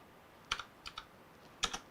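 Keys click on a Bluetooth keyboard during a PC build. A few sparse, quiet keystrokes come close by in small clusters against a near-silent background.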